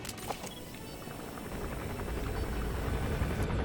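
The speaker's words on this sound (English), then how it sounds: "When's the chopper gonna land?" A helicopter arrives to land in Metal Gear Solid V, its rotor thumping steadily under a broadband engine roar that grows louder as it draws near. A few sharp clicks come in at the start.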